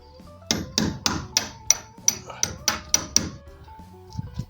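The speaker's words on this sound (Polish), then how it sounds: "tak nie wejdzie, więc musimy pomóc młotkiem" Ten sharp metallic hammer strikes in a steady rhythm, driving a metal hook into a wall, close and loud, followed by a couple of softer taps.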